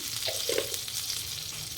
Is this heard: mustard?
yes